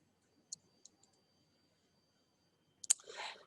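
A few faint, crisp mouse clicks spaced apart while choosing a search result in a library database, followed by a brief louder burst of clicking and rustling near the end; no one talks.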